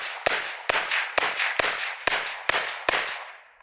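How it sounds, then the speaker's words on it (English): Seven suppressed rifle shots through a Surefire RC3 suppressor, fired at an even pace of about two per second, each a loud sharp crack with a brief hissing tail. "It's not the quietest suppressor in the world."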